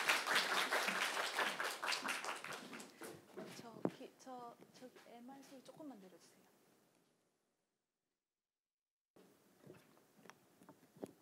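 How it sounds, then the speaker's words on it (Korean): An audience at a youth culture festival applauds, a dense patter of clapping over the first four seconds that thins into scattered claps beneath a speaker's voice, then fades to silence before soft sounds return. "큰 박수 부탁드릴게요"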